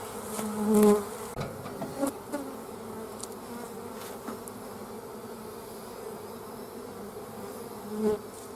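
Honey bees buzz steadily as they are shaken and brushed off hive supers during beekeeping, a close, continuous drone with a few faint taps and knocks mixed in.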